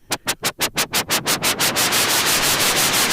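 Synthesizer bleeps through a low pass filter on a modular travel case rig, a fast run of rhythmic noisy pulses that speed up until they blur into a continuous loud wash, with no voices.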